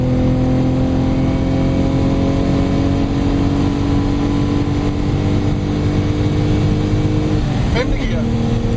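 A Lotus Omega accelerates hard in fourth gear, its engine drone loud and close, pitch rising steadily before a brief gear-change dip near the end, with a voice speaking over it.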